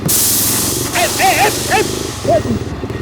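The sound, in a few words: motorcycle tyre puncturing and hissing air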